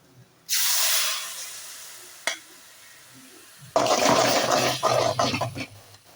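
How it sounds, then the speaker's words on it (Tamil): A ground onion, tomato and cashew paste goes into a hot pan for chicken thokku biryani, setting off a loud, close sizzling hiss in two bursts: a short rush early on, then a longer, rougher crackling sizzle. "இப்போ அரைச்சு வச்சிருக்கிற வெங்காயம், தக்காளி, முந்திரி பருப்பு எல்லாத்தையும் போட்டு இதில் ஊற்ற போகிறேன்"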